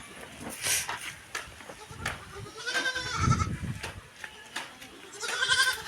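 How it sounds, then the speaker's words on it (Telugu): Several goat kids bleat in short, high cries at close range, repeating at irregular intervals against faint outdoor background noise. "పాలు అయితే తాగుతున్నాయి మేకపిల్లలు"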